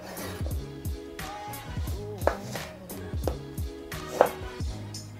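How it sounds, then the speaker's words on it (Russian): A knife taps repeatedly against a cutting board in quick, uneven strokes, thinly slicing a lemon, close by and fairly quiet. "Нарезаю я его достаточно тоненько"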